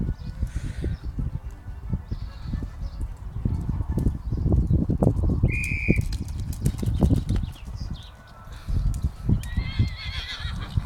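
Pony hooves thud and clop on the ground in a busy, irregular run of footfalls, close and fairly loud, with a brief whinny-like sound partway through and no talking.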